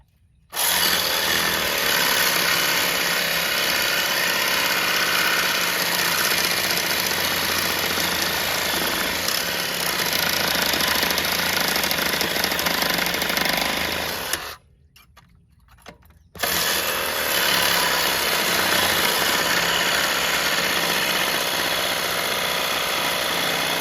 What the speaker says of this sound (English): Sawzall was the right tool for that job.